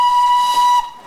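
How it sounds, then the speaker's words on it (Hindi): The steam locomotive of the Darjeeling toy train sounds its whistle in one loud, steady blast of almost a second, then cuts off, leaving a quieter hiss in a rainy setting. "तो पूरा माहौल गंदा कर देता है स्टीम इंजन"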